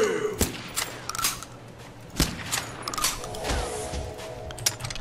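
Gunfire in the Mini World game comes as several sharp, separate shots spaced irregularly apart, with quieter mechanical clicks and game sounds between them.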